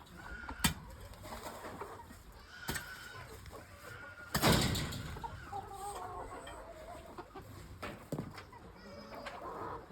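Hens clucking in short bursts at close range, with a brief louder rustle partway through and faint voices in the background.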